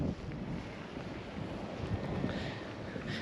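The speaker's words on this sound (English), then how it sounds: "It is a little bit windy today." Steady wind buffets the microphone outdoors at a new-home community in northwest Las Vegas, a continuous low rumble and hiss with gentle surges throughout, no voices.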